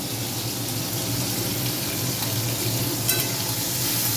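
Fish frying in a pan gives a dense, steady sizzle that holds at an even loud level throughout, close up with no voices.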